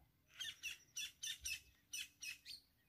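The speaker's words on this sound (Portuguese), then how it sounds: "Esse é o pica-pau, tá, gente?" A woodpecker in the Caatinga scrubland gives a series of about nine sharp, evenly spaced chirping calls, faint and somewhat distant over a quiet outdoor background.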